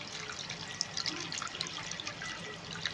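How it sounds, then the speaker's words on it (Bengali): Water trickles and splashes steadily into a pot used for steaming prawns for Bengali chingri bhapa, a close, continuous pour with scattered drips and no talking. "দেখুন জলটা কমে গেছিলো, আমি জল দিলাম।"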